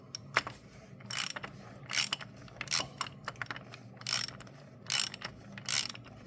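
Ratchet tightening an oil pan drain plug on a 2024 Ford Bronco, with repeated bursts of clicking pawl strokes in an uneven rhythm, loud and close, with short pauses between pulls.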